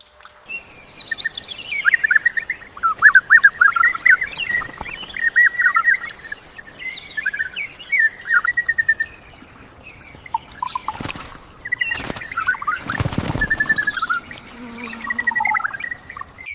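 Red-capped manakins calling in a rainforest, with quick, repeated chirping phrases throughout over a steady high insect drone, broken near the end by a few sharp, loud snaps.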